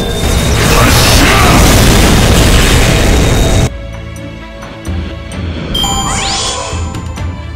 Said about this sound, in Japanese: 月光大砲発射